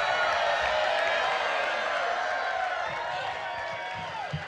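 A concert crowd at a show at the Silver Legacy Casino in Reno, with a sustained roar of cheering, whooping and scattered whistles from a large audience that fades slightly toward the end.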